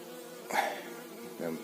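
A honeybee buzzes briefly near a hive, two short, fairly faint droning passes about a second apart over a low steady background hum.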